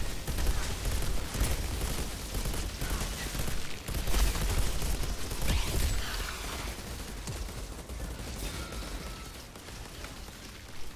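Grenades and gunfire erupt in a dense, continuous barrage during a battle in the shooter game Outriders, loud booms and bursts overlapping for the whole stretch and easing slightly toward the end.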